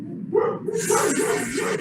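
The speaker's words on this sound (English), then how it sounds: "Oh, there's my dogs." Dogs bark in a short burst of several yelping barks at moderate distance, overlapping one another over a low background murmur.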